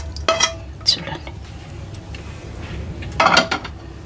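A spoon stirs lemon pickle with oil in a bowl, giving a few sharp clinks against the bowl at irregular moments over a quiet background. No one speaks.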